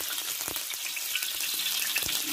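Garlic frying in hot oil in a pan while cooking ginger soy chicken, a steady close sizzle with a few soft stirring clicks and no talking.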